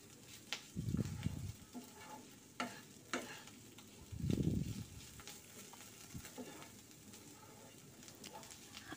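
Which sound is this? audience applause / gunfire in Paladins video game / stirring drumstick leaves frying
stirring drumstick leaves frying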